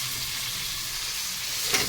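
Cauliflower, beans, carrots, tomato, capsicum, pointed gourd and potato are sautéed with chicken in hot oil, a constant close sizzle with a brief stirring scrape near the end.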